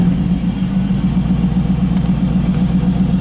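A 1997 Pontiac TransAm's engine runs at idle, a loud, close, steady low rumble with an even pulsing throb and no voices; the start itself is not distinct.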